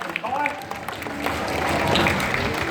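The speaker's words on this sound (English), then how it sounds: "how about we give another round of applause?" Crowd applause at a theme park animal show featuring a climbing tiger: a dense outdoor wash of clapping and crowd noise that builds and stays steady, with some talk mixed in early.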